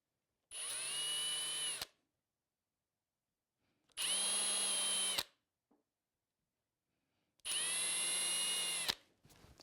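A power drill drives screws into a thin, half-inch wooden headstock on a cigar box guitar, giving three separate whirring bursts of about a second each with quiet pauses between them, close and clear with no talking.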